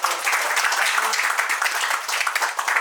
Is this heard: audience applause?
yes